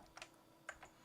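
Arrow keys tapped on a computer keyboard while modeling in Tinkercad: two quick pairs of soft plastic key clicks, quiet and close, with no voices.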